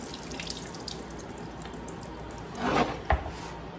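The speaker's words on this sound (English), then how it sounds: "And I'm going to drain this cutting board again." Water drains off a cutting board during turkey spatchcocking, a low steady trickle near a sink that swells into a brief splash and ends in a sharp drip or knock.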